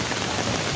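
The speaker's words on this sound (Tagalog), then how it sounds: "Ito po, ganito kalakas ang ulan." Heavy, unrelenting rain pours down outdoors at a survey site, a dense, loud, steady hiss of drops hitting surfaces with no break and no voices.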